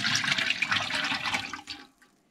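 Liquid soap batter pours into a mold with a steady, close splashing rush that runs for about two seconds and then stops abruptly, leaving quiet.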